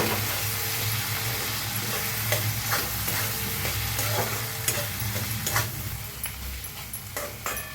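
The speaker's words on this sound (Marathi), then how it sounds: "मसाला बघा छान असा भाजला गेलेला आहे" Masala of turmeric and red chilli powder fries in oil in a pan for a matki dal dish, a steady close sizzle with repeated scraping stir strokes and no talk.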